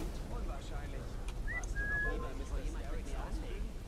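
Brief whistling in the video game Assassin's Creed Syndicate, a couple of short rising whistle notes heard faintly over a dense, noisy game soundscape with a voice talking.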